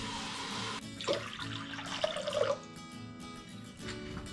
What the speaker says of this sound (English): pour water into a bowl.